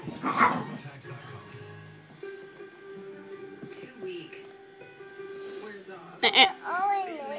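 A dog yips, whimpers and barks briefly near the start and again around six seconds, close by, with people talking over a playful indoor game throughout.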